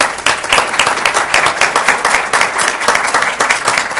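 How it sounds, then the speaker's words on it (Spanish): Sustained applause from an audience at a hospital quality-management panel, dense steady clapping throughout at a loud, even level with no speech over it. "Este aplauso es para usted."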